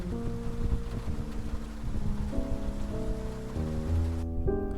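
Steady rain falls in the noir detective game Face Noir, a continuous wash of hiss carried under sustained background music with no talking.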